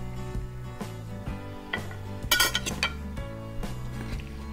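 Raw fish salad with coconut milk being tossed in a bowl, with a steady run of clinks and scrapes of utensils against the dish, a brighter cluster of clatter midway, over faint background music.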